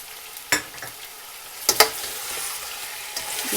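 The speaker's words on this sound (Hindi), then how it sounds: "दही डाल के भी हमने अभी इसको थोड़ी देर और भूनना है।" Mutton frying with yogurt in a pot, a steady hiss of sizzling broken by a few sharp spatters and stirring scrapes, close and fairly loud with no talk.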